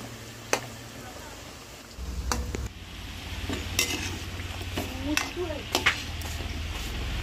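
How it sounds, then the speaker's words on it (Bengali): Goja sweets deep-fry in oil with a low bubbling hiss, broken by sharp clicks and clatters as pieces are turned, with faint background noise. "এগুলো উল্টে পাল্টে আরও কিছু সময় নিয়ে ভেজে নেব"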